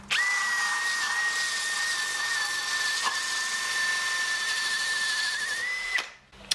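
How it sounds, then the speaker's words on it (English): Power grinder running steadily on the muddy underside of a Ford Escort RS Cosworth during restoration, a loud continuous high whine held for about six seconds before cutting off abruptly. "I got my grinder on this."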